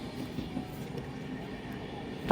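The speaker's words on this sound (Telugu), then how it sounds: "ట్రైన్ అయితే స్టార్ట్ అయిపోయింది." A passenger train runs through a forest, heard from inside as a steady low rumble and rolling drone at moderate level, with a brief knock at the end.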